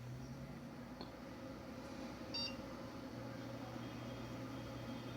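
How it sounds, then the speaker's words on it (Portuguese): A desktop computer powering on with an error at boot: a steady fan hum runs throughout, with a single short, high electronic beep near the middle. "Vou ligar a CPU."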